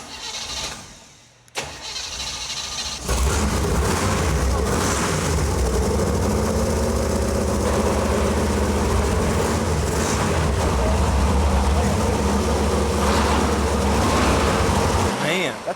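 A 1955 Chevy 350 small block V8, sitting unused for over ten years, cranks and fires into a loud, rough, rumbling idle that holds steady at close range, with faint voices in the background.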